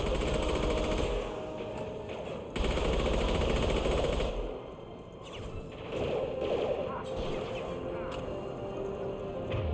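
Rapid bursts of gunfire from the video game Mass Effect 2, loud and close, with sharp cracks and whooshing impacts rising and falling over several seconds.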